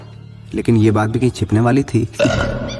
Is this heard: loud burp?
yes